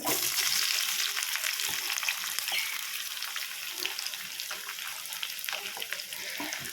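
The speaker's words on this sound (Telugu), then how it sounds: "కొంచెం దూరగా వేయించుకున్నాము ఆనియన్స్" Sliced onions fry in a pan, and a busy, bright crackle goes on without a break, broken by stirring scrapes and sputters. The sound is moderately loud and close.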